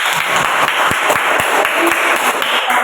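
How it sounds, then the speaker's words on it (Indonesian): A classroom of students breaks into steady, dense applause. The clapping is loud and continuous from start to finish, with a few sharper claps standing out and no clear speech. "Oke, semua tepuk tangan."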